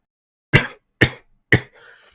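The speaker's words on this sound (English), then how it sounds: "I apologize for any coughing, sneezing, things like that" A person with a cold coughs three times, sharp and close, evenly spaced about half a second apart, followed by a faint breathy trail.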